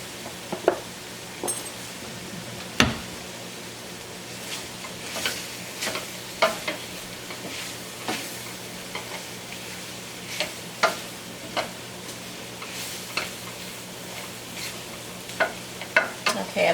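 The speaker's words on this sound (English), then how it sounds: "just stir it around until all of the pieces are covered" Pork pieces tossed with flour in a frying pan, a quiet background sizzle broken by sharp, irregular scrapes and clinks of the utensil against the pan, spaced out over several seconds with no voices.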